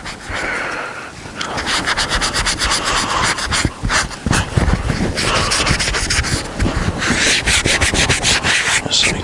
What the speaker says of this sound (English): You got the magic eraser for the little extra hard spots you got in there.